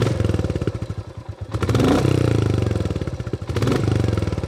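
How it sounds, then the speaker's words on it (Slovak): A 2023 Royal Enfield Classic 350 with its fuel-injected single-cylinder engine idling nearby, a loud, steady low thumping beat that swells twice with brief throttle blips before settling back to a lazy rhythm, heard alone. "Začneme samozrejme motorom, ktorý vám popri tom aj naštartujem."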